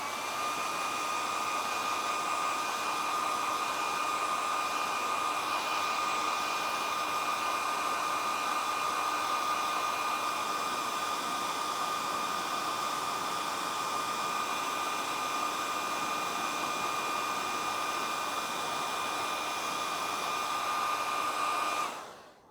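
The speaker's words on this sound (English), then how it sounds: "we just give it a bit of a go over with the hairdryer quickly" A hair dryer blows steadily on low-tack tape over a leather handbag during a piping repair, a constant close whooshing hum with a faint high whine that cuts off at the end.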